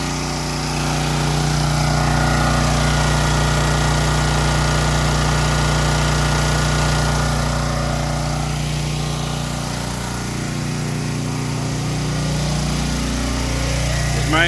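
Champion portable generator powering a whole house, detached garage and a 3.5-ton air conditioner, a loud steady engine drone close by, with load shifting slightly partway through and no clear talk.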